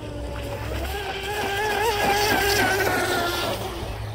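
A 4000 kV brushless motor in a Blackjack 24 RC boat spins a small propeller with a loud, steady electric whine that rises and wavers in pitch, close and continuous, with brief speech around it.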